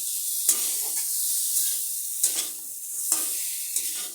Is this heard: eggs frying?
yes